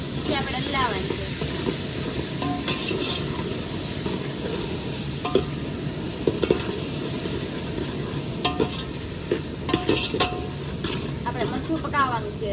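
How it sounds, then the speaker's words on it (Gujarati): A spoon stirs a chili curry of dried gumla fish in a pan, with repeated scraping strokes over a continuous sizzle and bubbling hiss. "પછી આપણે હલાવવાનું છે."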